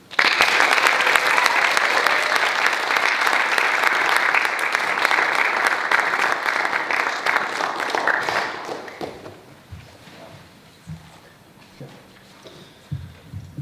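Sustained audience applause follows a talk at a school speaker evening, dense clapping for about eight seconds before it thins and fades into scattered claps and quiet room noise.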